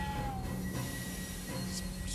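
In the video game Dreams, train wheels give a brief, thin squeal as the train brakes to a stop, over a steady rumbling rail background, fairly faint and short.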